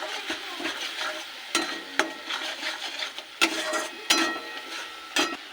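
Ground cumin, turmeric, salt and chilli powder stir-fried in a pan with a spoon, steady close sizzling broken by repeated sharp scrapes and knocks of the utensil against the pan.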